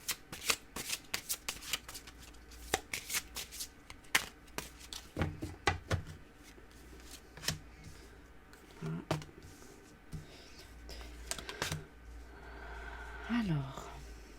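A deck of tarot cards is shuffled by hand in a quick series of crisp riffles and flicks, close and fairly quiet, with short pauses between bursts and a brief voice near the end.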